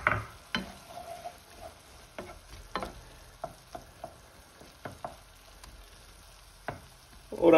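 Guanciale dropped into a pan with cherry tomatoes, a soft sizzle running under scattered clicks and taps of stirring, fairly quiet and close, with a louder clatter at the end.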